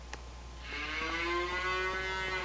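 A single long, loud moo from a grown cow on a farm in Farming Simulator 25, rising after a moment of quiet and holding steady, with faint background hum.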